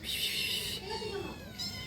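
Cats meow in a home where several are kept, a bright drawn-out mew followed by softer shorter calls, close by and fairly clear against a quiet background.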